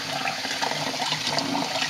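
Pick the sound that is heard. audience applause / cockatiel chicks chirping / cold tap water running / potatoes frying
cold tap water running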